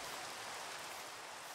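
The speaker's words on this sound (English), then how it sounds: "Why is it always raining whenever I log on to the server?" Minecraft rain falls in a soft, even hiss, a steady diffuse patter without variation across a brief stretch, with no talk.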